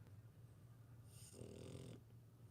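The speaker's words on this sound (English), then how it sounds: "You like making snoring." A dog snores faintly in the cab of a truck, one drawn-out rasping snort rising over a low steady engine hum, quiet and close.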